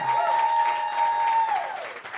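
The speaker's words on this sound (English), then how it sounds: "Please clap for them." A church congregation at a Sunday anointing service claps in a steady, moderate wash of applause, with a sustained tone ringing over it that fades toward the end.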